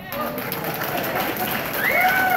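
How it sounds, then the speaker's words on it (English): An audience at the Valley Patriots 14th Annual Bash claps as a steady, dense wash of applause that runs throughout, with voices and a bit of crowd noise mixed in around it. "You're supposed to clap at that."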